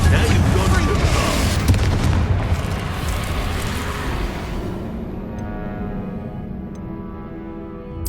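A booming Confringo blasting spell explodes in the Hogwarts Legacy video game, a loud, dense low rumble that slowly decays into a lingering tail, with game voices speaking over it.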